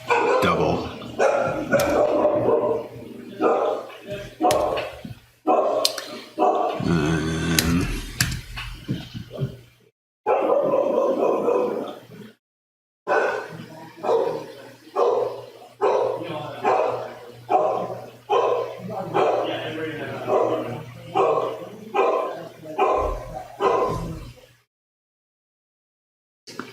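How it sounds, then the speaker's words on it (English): A pet dog barks in repeated bursts indoors, loud and close, during a coding session, with gaps of quiet between volleys. "my dog is barking."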